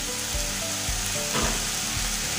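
Ground cumin and other spice powders sizzle steadily in hot oil in a frying pan while a soya chunks curry is being made, with soft stirring scrapes, close and continuous with no voices.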